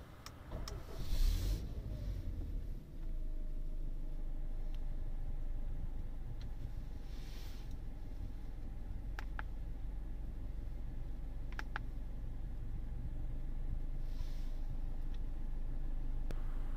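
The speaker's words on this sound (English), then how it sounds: "And we'll start the engine." A Jaguar engine cranks and catches with a brief burst, then settles into a steady low idle that carries on, broken by a few faint electronic clicks and whirs.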